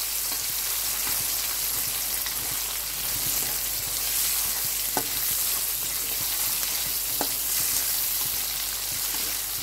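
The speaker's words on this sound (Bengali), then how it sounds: "ইলিশ মাছের কাটা দিয়ে দিলাম। ভেজে নিচ্ছি ভালো করে।" Hilsa fish bones rubbed with turmeric and salt fry in a pan, giving a dense, even sizzle throughout with occasional faint clicks and a low steady hum beneath; no talking.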